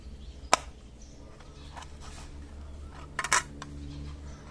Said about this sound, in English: Let's cut this open and get our seeds.